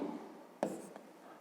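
A pen scratches across paper as someone writes math notes by hand, giving soft brief strokes and a sharper tap, faint and close.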